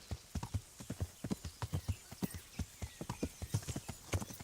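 Horse hooves clip-clopping in a video game, a quick, even train of hollow knocks at a trotting pace, fairly faint and continuous throughout.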